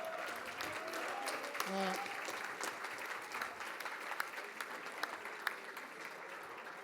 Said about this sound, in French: Un capitaine d'équipe qu'on peut applaudir